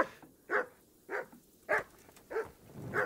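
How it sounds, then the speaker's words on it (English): A dog barks in Kingdom Come: Deliverance, five sharp, evenly spaced barks at moderate distance over a quiet background. "Hey, dog, shut up!"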